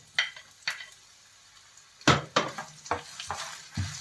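Chopped onion dropped into a hot pan while cooking a vegetable dish of carrots, beans and shrimp, giving several short bursts of sizzling and stirring scrapes separated by quiet gaps, close and fairly soft.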